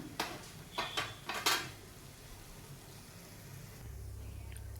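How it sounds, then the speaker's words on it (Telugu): Powdered coconut is stirred into ghee in a pan over a medium flame, with a few sharp metallic scrapes and clinks of the spoon against the pan early on, then a quiet steady hiss. "మనం పౌడర్ చేసి పెట్టుకున్న కొబ్బరి వేసేసుకుందాం మీడియం లో ఫ్లేమ్లో వేయించుకుందాం"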